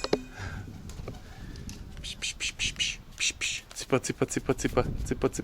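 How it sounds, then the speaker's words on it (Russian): A stray pigeon coos and flutters close by, soft repeated calls mixed with rustling and wing sounds while people talk quietly around it. "Какой-то голубь к нам прилетел."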